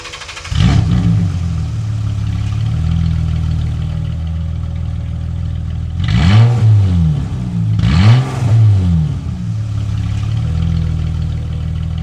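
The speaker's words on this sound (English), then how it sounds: "With those pipes off, it is an obligation to start the car. You've got to hear what it would sound like straight piped after all." BMW E30 engine running straight piped with no exhaust, starting up loud and close, settling into a rough idle, then two sharp revs around the middle before dropping back to idle.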